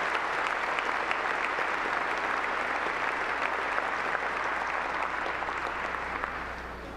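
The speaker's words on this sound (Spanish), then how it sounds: "le damos un fuerte aplauso" Sustained applause from a large congregation at a Mass in the Basilica of Guadalupe, a dense steady roar of clapping that fills the whole stretch and begins to fade at the very end.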